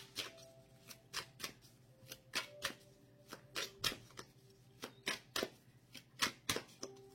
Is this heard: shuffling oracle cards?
yes